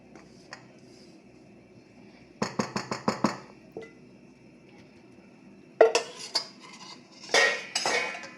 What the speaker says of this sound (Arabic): انا غادي نخويه على الخليط ديالي، خويه مزيان.